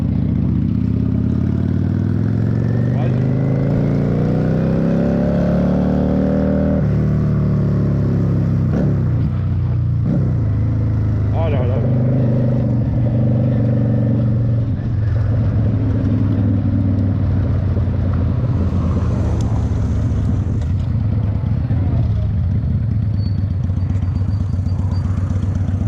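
A Kawasaki VN800 motorcycle engine runs loud and close during a ride, its deep V-twin rumble rising and falling through gear changes and throttle shifts, with no talk.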